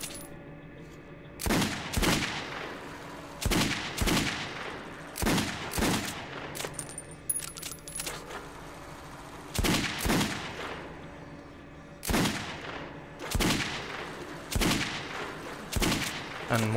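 Rapid bursts of gunfire from headshots on enemies in Metro Redux, sharp cracks recurring in clustered volleys across the whole stretch over a low game ambience.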